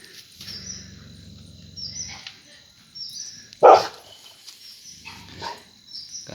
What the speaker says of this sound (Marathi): त्या फोटोवरती भुंकते बघा